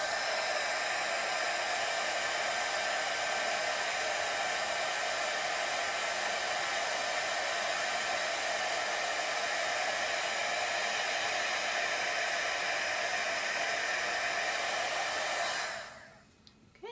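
An embossing heat tool runs steadily for about fifteen seconds, melting embossing powder on a card-front of cardstock, a constant airy whir with no talk that cuts off near the end.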